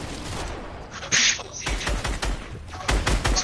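Gunfire from a new gun in a video game: bursts of rapid shots and thuds come in clusters, loud and close, with brief gaps between volleys and no talk over them.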